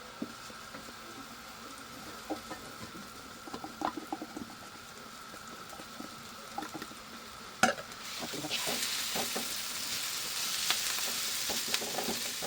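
Ground pastilla filling drops into hot oil. After some soft stirring and clinks, a steady sizzle rises and continues at moderate volume.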